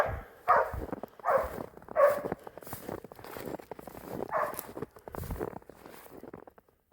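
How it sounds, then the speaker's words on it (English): A dog in snowy woods gives a string of short, moderately loud barks after finding a bird, spaced irregularly across the clip with rustling movement between them. "He found a bird. That's his bird bark."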